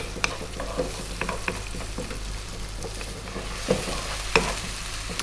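Chopped onion and garlic sizzle in a hot pan as a spoon stirs them, with a steady frying crackle under scattered scraping taps and a couple of sharper knocks against the pan.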